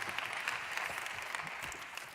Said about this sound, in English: Yes, big round of applause to them.